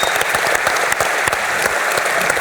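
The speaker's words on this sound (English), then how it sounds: "A big round of applause, one more, for everyone that participated" An EVE Fanfest 2016 audience gives a big round of applause for costume contest participants, with steady, dense clapping from a large crowd that stays loud and sustained throughout, with no voices over it.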